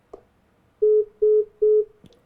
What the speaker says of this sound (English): She won't answer the phone either.